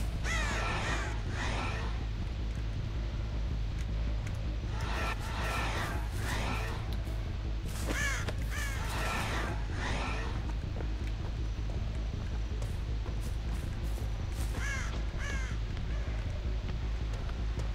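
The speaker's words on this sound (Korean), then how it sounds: "까마귀가 날아갔다가 다시 날아왔으니까 여기 있네요." A crow in a video game caws in repeated harsh bursts, some grouped in quick runs, over a constant low game hum, with quieter caws toward the end.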